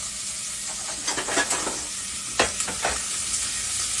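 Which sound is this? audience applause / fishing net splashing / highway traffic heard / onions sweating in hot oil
onions sweating in hot oil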